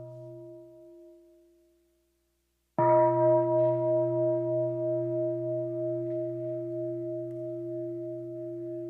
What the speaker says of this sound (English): Let us listen to one sound of the bell.